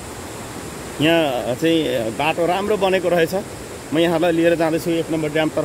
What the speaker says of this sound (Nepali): ठुलो पानीको आवाज आइरहेको छ